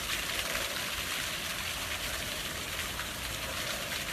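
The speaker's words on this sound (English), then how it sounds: "At my favorite spot, the waterfall." A waterfall pours in a continuous broad rush of falling water, steady and unbroken with no voices, heard from a little distance.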